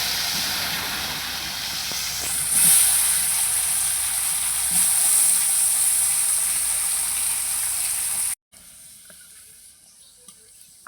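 Thin-sliced potatoes fry in hot oil, giving a steady, bright hiss and sizzle that runs for several seconds before cutting out abruptly and dropping to a much quieter background.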